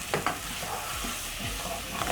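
Spoon stirring tomato paste through beef sauce as it cooks in a pan, a few soft scrapes and knocks over a low steady sizzle, close and fairly quiet.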